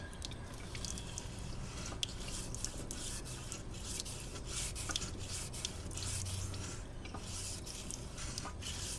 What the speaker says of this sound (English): Start from the tip, drag it all the way across.